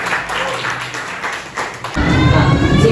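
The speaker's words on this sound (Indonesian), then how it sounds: "Tepuk tangannya dulu." A classroom group of students breaks into applause for a student team, a burst of clapping that swells up only in the final second after quieter room noise.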